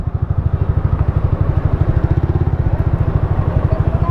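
A motorcycle engine chugs close by on a narrowing motorcycle lane, with rapid, regular, even pulses throbbing steadily for about four seconds with no voices.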